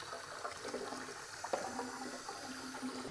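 Running water from a tap washing developed ADOX CMS 20 II film after fixing, a continuous hiss and splash with a small clatter midway.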